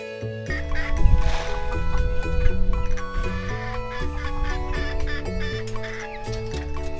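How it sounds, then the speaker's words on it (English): Backyard chickens, with a rooster among them, cluck and murmur close by at a moderate level in a busy farmyard, with scattered calls over a steady background hum. "No bad chickens. You can't eat their food."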